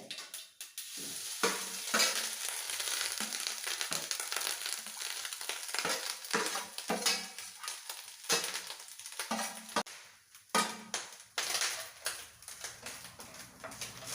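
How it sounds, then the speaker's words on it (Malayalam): Grated coconut, curry leaves and dried red chillies roast in a pan for a jackfruit erissery, a continuous close sizzle broken by repeated scraping stirs of the spoon, fairly quiet and without talk. "ഈ തേങ്ങയും ഈ കറിവേപ്പിലയും ഈ വത്തൽമുളകും കൂടെ നമുക്ക് ഇട്ടൊന്ന് മൂപ്പിച്ചെടുക്കാം"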